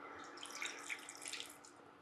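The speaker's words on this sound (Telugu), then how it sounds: "సో కొంచెం వాటర్ వేసుకుందాము." Water poured into a clay cooking pot, a steady close splashing stream that runs the full length without pause or talk.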